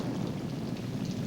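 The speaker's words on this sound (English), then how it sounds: "Mother Nature is simply bringing us normal rain." Steady, even wash of rain falling as a drama sound effect, a constant hiss with low rumble underneath, continuous and fairly soft with no voices over it.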